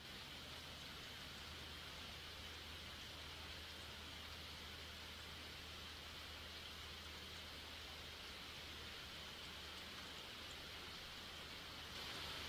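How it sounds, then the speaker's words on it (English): Steady, hissing rain from the Sea Bed visual novel falls as an even, unbroken wash of noise, soft and constant throughout with no voices. "Suddenly I could hear the sound of rain."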